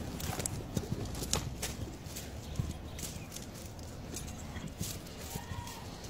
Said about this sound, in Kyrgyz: Жакшы ат. Бунун атасы да жакшы ат болгон да.